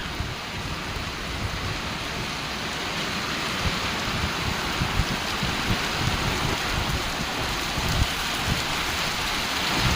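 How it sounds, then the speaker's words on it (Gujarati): Heavy rain without wind pours down steadily in Chitrod, Gujarat, in a dense, hissing roar, loud and unbroken throughout. "જોરદાર વરસાદ ચાલુ થઈ ગયો"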